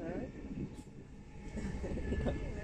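The steady rumbling interior of a moving passenger train, a low continuous drone with faint rattles, while muffled voices talk nearby.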